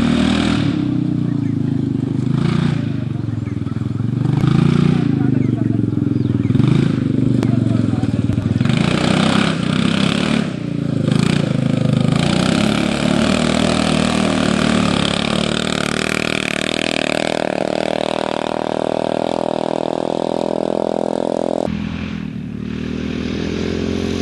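A Magic Bug rally vehicle's engine roars loud and close, holding a rough steady drone before climbing in pitch as it revs hard, then cutting off sharply near the end.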